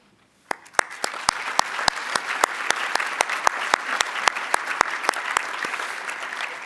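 Audience applause for event sponsors at a charity livestream gala, starting abruptly and settling into a steady, moderately loud patter of many hands clapping with distinct individual claps.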